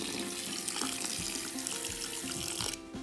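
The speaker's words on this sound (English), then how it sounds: "Get that water in there." Water runs steadily from a tap into a bucket to thin liquid floor leveler underlayment, a continuous close rushing splash that holds for about three seconds before dropping off at the end.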